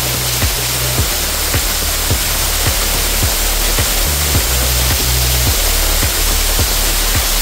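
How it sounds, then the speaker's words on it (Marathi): A waterfall pours steadily on a Konkan ghat, a loud, close, continuous broadband roar with repeated low thuds and rumbling bursts throughout, no voices over it. "एक नंबर वॉटरफॉल आहे"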